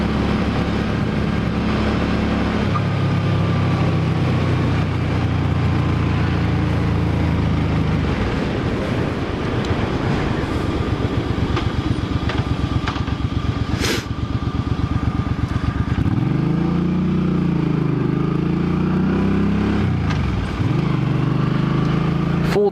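2007 Suzuki M50 motorcycle being ridden: a steady engine thrum that rises and falls as it revs and shifts, loud and close, with wind noise and no voices.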